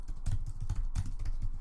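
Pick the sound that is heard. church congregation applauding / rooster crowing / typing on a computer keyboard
typing on a computer keyboard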